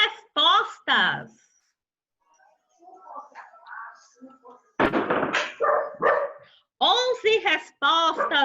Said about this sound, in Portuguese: o cachorro latindo é aqui em casa